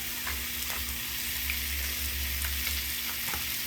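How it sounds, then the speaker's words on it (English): Seasoned stuffed chicken sears in a hot pan with a steady, close sizzling hiss and faint crackles, no voices heard. "I'm just going to leave it on each side for about maybe 2-3 minutes just to get some nice color going on it."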